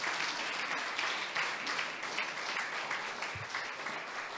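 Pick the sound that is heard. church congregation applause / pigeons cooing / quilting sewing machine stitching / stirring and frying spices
church congregation applause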